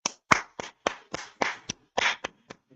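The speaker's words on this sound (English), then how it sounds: "this clap was not planned" A single person's hand claps, about ten sharp, close claps in an uneven rhythm, ringing out alone in a quiet room.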